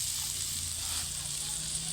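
Hot water poured into a pan of khichuri with mixed vegetables and dal, giving a steady hissing sizzle that holds evenly throughout without breaks.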